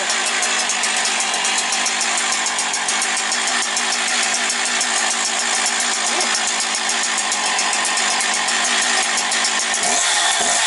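A Husqvarna 365 chainsaw engine runs steadily and loud for the whole stretch, with a dense, continuous buzzing drone that holds an even rhythm and dips briefly near the end.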